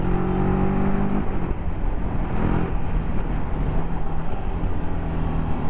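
A TVS Apache RTR 310 motorcycle on the move produces a steady engine and intake growl with exhaust note, mixed with rushing wind noise at speed and a brief rise in revs early on.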